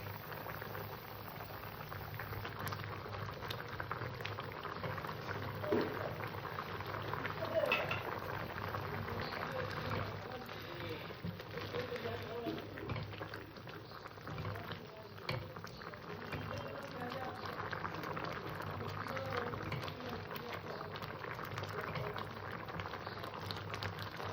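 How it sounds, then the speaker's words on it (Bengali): A pot of fish roe curry broth spiced with green chillies bubbles at a steady boil, a continuous low burble and hiss that runs unbroken for a long stretch. "ঝোলটা আমি ভালো করে ফুটিয়ে নিয়েছি"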